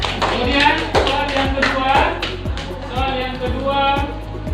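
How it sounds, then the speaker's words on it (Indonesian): A classroom of students claps hands together in a steady rhythmic pattern, loud, close and evenly spaced, with a little room noise underneath. "Oke, akhir, tepuk tangan dulu."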